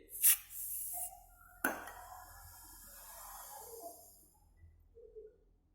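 Aerosol cleaner sprayed into the inner parts of a disassembled mechanical or hydraulic brake, two sharp hissing bursts close up, the second one longer and fading, with faint workshop handling after it.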